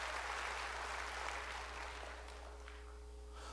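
Congregation in a church service applauding together, a dense steady clapping close by that slowly thins and fades toward the end, with no speech over it.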